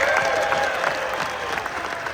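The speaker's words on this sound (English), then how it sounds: "So ladies and gentlemen, how about a big round of applause?" A crowd at a Barrett-Jackson collector car auction bursts into a steady wash of applause welcoming television viewers, dense and continuous, with a faint murmur of voices and cheering underneath.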